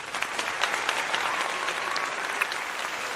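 A pitch-training audience claps together in a steady, dense round that holds even and fairly loud throughout, with no talking over it.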